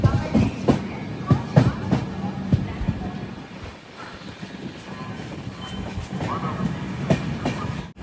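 The Raptisagar Express rolls into Ongole railway station with rhythmic clacking of wheels over rail joints and a steady rumble of passing carriages, close by, amid crowd chatter on the platform.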